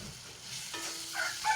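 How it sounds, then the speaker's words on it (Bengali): Garlic paste frying with onions in a pan, a steady close sizzle that brightens and crackles toward the end, with no voices. "এরপরে আমি দিয়ে দিলাম রসুন বাটা"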